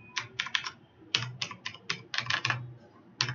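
Short bursts of keystrokes on a computer keyboard as a command is entered, crisp, close clicks in small clusters separated by brief pauses, no speech.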